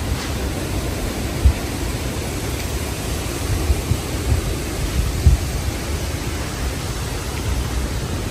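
Strong typhoon wind sweeps through a coconut grove in the Visayas, a steady broadband roar that persists for the whole stretch, with a few faint gusty bumps and no voices.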